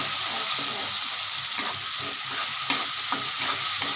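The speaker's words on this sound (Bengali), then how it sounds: "বেরেস্তা বেরেস্তা মতো একটু ভেজে রাখছি" Julienned onions fry in hot oil to make birista, giving a loud continuous sizzle with scattered scraping stirs and light clicks from a spatula, close up with no speech.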